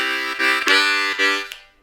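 A few rhythmic blues chords on a C harmonica, breathed in short pulses that end with a quick fading note. The playing is loud and close, with no one speaking.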